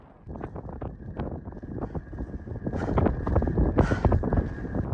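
Strong gusting wind on a high-altitude mountain trek buffets the microphone with a loud, rumbling roar that swells toward the end, punctuated by sharp flapping bursts.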